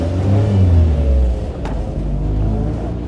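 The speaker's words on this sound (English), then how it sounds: "So we're leaving the pits here in the Birkin" A Birkin S3 180 XS sports car on a track pulls out of the pits, its engine revving loud and close with a deep throaty rumble that surges, briefly dips and then holds.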